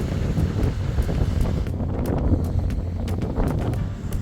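Strong wind on the west side of Saint-Pierre-et-Miquelon buffets the microphone in a constant low roar, gusting unevenly, with occasional faint clicks and no one speaking.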